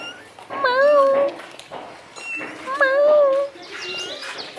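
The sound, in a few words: cat meowing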